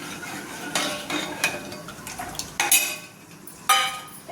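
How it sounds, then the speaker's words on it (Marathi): Cardamom, cashews, almonds and raisins stirred in a pan, a spoon clinking and scraping against the metal in several sharp, irregular strokes over a faint background. "थोडीशी इलायची, काजू, बदाम, मनुके, ते थोडं हलवून घेते."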